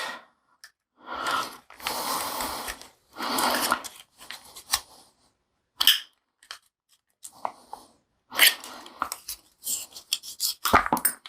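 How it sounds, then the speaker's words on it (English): Small metal spanner working on a Spyderco PM2 Tanto folding knife during disassembly, giving scattered scraping, clicking and clinking metal sounds in short bursts with pauses, close and moderately loud, no talking. "So I just have a small metal spanner here. Just going to get up under there."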